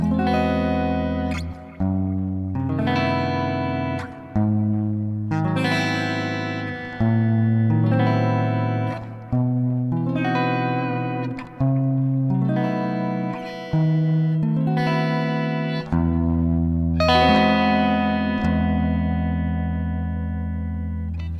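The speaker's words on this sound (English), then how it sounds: "that's the sound of harmonic major" Distorted electric guitar strums a sequence of harmonic major scale chords, one per scale note, each ringing out before the next, with a warm, effected tone and no talking.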